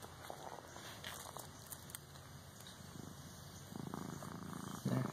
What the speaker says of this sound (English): There you go, you get the purr starting.